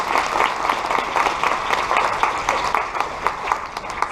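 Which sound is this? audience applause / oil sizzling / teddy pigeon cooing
audience applause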